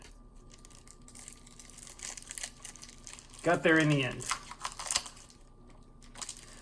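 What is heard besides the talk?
tearing shrink wrap off a KeyForge card deck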